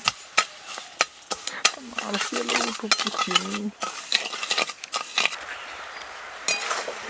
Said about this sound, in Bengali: ওই কড়ার মধ্যে হাফ কাপ চিনি আর অল্প একটু জল দিয়ে দিচ্ছি নাড়াচাড়া করে চিনিটাকে একটু গলিয়ে নেব